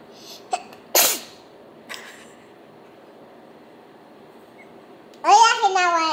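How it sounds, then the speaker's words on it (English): A single sharp sneeze bursts out at close range in a quiet room, preceded and followed by brief sounds, with a voice speaking excitedly just after. "the sneeze."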